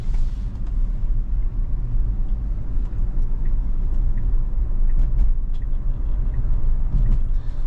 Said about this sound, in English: We have a car coming. As soon as this car passes, we should go.